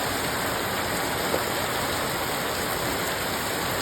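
Heavy rain pouring down in a dense, steady roar, loud and close, with no let-up and no voices over it.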